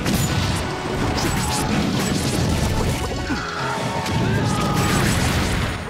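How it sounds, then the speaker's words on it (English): A loud explosion in Super Smash Bros. Brawl crashes and booms with smashing impacts and whooshes over busy game sounds, dense and continuous throughout. "That was a nice explosion."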